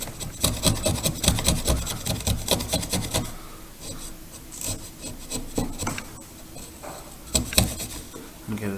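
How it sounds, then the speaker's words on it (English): A wood chisel held in both hands pares and smooths a trench in a vanity table mirror frame. Quick, dense scraping strokes come close up at first, then give way to sparser, softer rasps. "Start chiseling by hand. 2 hands on the chisel when you're chiseling by hand."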